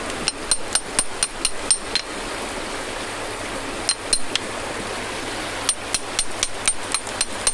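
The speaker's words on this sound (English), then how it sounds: "this is usually better with a 3-pound sledge or a 4-pound sledge if you're a bigger guy" A sledgehammer strikes rock beside a fossil concretion nodule on a beach, sharp ringing metallic blows in quick bursts with a pause midway, over a steady background rush like flowing water.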